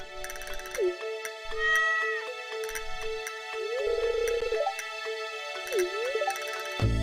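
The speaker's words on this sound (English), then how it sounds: "That's a cat, alright." A cat in the game Stardew Valley gives three drawn-out, synthetic-sounding meows spaced a couple of seconds apart, set over a light looping music background.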